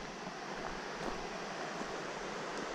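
A mountain torrent at the foot of a gorge at Kakouetta rushes in a steady, dense wash of water noise, continuous and fairly distant with no voices.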